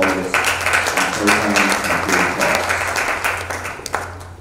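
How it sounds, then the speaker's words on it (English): Audience applause fills a live-streamed Turkeyen & Tain Talks event, a dense, steady wash of many hands clapping nearby that carries through the whole stretch with some voices mixed in. "A round of applause for all those who follow us on"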